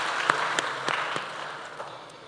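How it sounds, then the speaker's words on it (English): Applause for student leaders at a Kenya Institute of Development Studies event, a brief burst of crowd clapping that fades over about two seconds. "Let's give them 2 hearty claps for their dedication."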